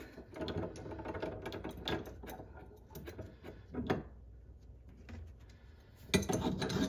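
Metal wrenches clicking and scraping as a shower fitting is tightened during a bathroom renovation, a run of close, irregular mechanical clanks and ratcheting taps with a louder burst near the end.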